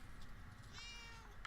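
A cat in the video game Murdered Soul Suspect gives a single drawn-out meow, faint and slightly distant over a low background hum, with no voices.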